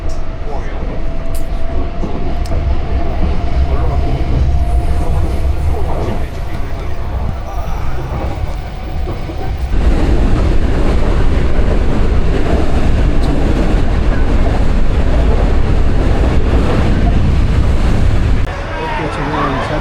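Continuous rumbling roar of a subway train in Osaka running through a tunnel, loud and steady, swelling louder partway through.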